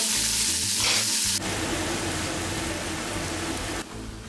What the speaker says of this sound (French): Vous allez maintenant faire revenir les lardons et l'oignon à la cocotte.